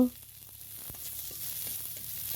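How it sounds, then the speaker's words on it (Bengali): Garlic fries in a pan for a rural-style dried-fish bharta, a soft steady sizzle holding at low level throughout with a few faint clicks and no voices. "রসুন ভেজে নিব"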